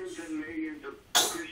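A baby sneezes once, a short sharp burst that comes right after a soft vocal sound, heard close and fairly loud.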